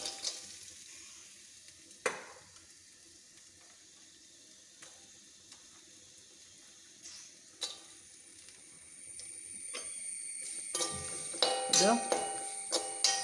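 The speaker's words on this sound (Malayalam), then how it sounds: "ഇതിനി നെയ്ക്കകത്ത് വറുത്തിടാം നെയ് ചൂടാൻ വെച്ചു ഇടാം" Chopped coconut for payasam fries in hot ghee, a soft sizzle that builds and grows busier toward the end, with occasional clanks and stirring scrapes, close and fairly quiet.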